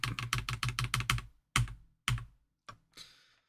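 Rapid clacking keys on a computer keyboard while working in Excel, about eight quick presses in a steady run, then a few spaced, heavier strokes and a final soft tap, close and clear with no talk.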